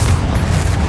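A Confringo blasting spell detonates in the Hogwarts Legacy game, giving a short, dense, booming blast with heavy low rumble that fills the whole moment.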